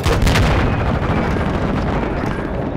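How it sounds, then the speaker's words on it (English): Carpet bomb strike in the Call of Duty: Modern Warfare 2 beta, a loud continuous rumble of overlapping explosions and booming blasts rolling on without a break for the whole stretch, no voices over it. "That was a freaking carpet bomb."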